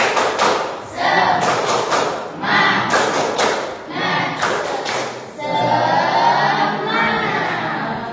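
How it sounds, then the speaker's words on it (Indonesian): A school class does a rhythmic spirit clap, bursts of loud group clapping in a patterned beat that break off and restart, ending in mixed voices and cheering. "Tepuk semangat."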